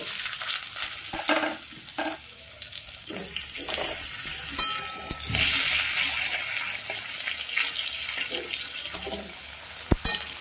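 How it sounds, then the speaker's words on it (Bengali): Potatoes frying in the same hot oil just used to fry katla fish, a steady broadband sizzle with occasional stirring scrapes and a sharp clink near the end, no voices. "এবারে আমি ওই তেলের মধ্যেই আলুটাকে আগে একটু ভেজে নেব।"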